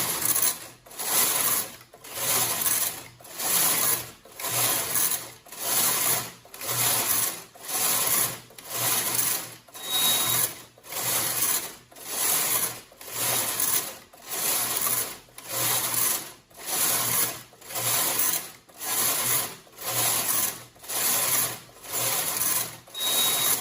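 A Brother knitting machine carriage slides back and forth knitting a skip stitch pattern, a loud rhythmic rasping swish repeating about once a second with brief pauses at each end of the stroke, close and steady throughout.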